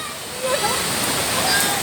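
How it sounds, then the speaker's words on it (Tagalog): Loud, steady roar of Baul Falls pouring hard into a pool, a broad continuous rush of falling water close by, with brief voices over it. "Oh, grabe yung buhos ng tubig. Grabe yung lakas."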